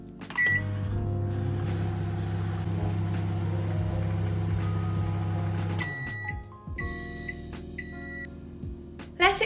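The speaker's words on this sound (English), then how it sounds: "Now microwave it for 1 minute and 25 seconds." A microwave oven heats a mug of cinnamon, syrup and milk with a steady close hum, then stops and gives a series of sharp electronic beeps, followed by the soft clicks and clunks of the door.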